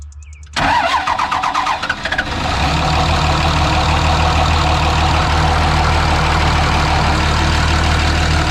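A 2005 Dodge Cummins 24-valve 5.9L diesel engine cranks briefly, fires up and settles into a steady, rumbling idle, close and loud, after a water pump replacement.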